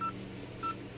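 Two short touch-tone beeps sound in a Packet Tracer IP phone call simulation, spaced about half a second apart, clean and fairly faint over a low background hum.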